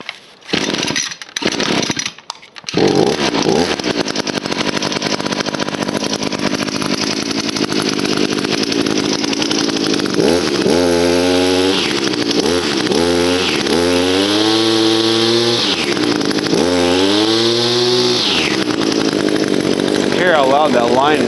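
A new Echo SRM 266 string trimmer, primed with the switch on at full throttle, takes a few sharp pull-cord tugs, then catches and runs steadily, its engine rising and falling through several revs. Voices are audible at times over the engine.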